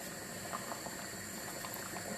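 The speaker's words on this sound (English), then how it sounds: "So the pot is bubbling" A pot of Jamaican Ital stew peas made with black-eyed peas bubbles steadily on the stove, a continuous close simmering and popping with no voices over it.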